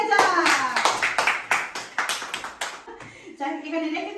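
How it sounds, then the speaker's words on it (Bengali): Several people clap their hands in a lively indoor family setting, a quick burst of claps that pauses briefly and then resumes near the end. "আমার ছোট খালার জন্য হাততালি হয়ে যায়"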